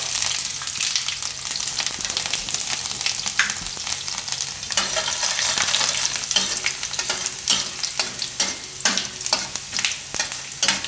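Mustard seeds and chopped garlic sizzle steadily and loudly in hot oil in a pan, with dense crackling and scattered sharp pops and stirring clatter throughout.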